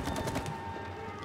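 Rapid, steady gunfire from shooting at wasps in It Takes Two, a short, loud, continuous burst heard up close with no talking.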